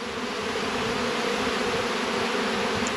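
Honey bees swarm over leftover hives after a honey extraction, cleaning out the remaining honey; a dense, steady buzzing of many insects fills the air, close and continuous without a break.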